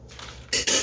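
A metal lid is set onto a pot of soaking pinto beans, a soft scrape followed by two bright clanks close by, each ringing briefly.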